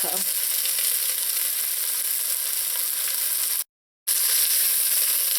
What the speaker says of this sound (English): When the oil is hot, add in the onions, add in the pimento and the hot peppers, and the garlic.